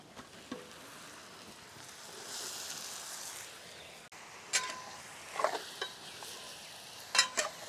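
Chicken pieces for a chicken sambal fry in oil with ginger and garlic, giving a soft, low sizzle broken by a few sharp scrapes and clanks as the pan is stirred.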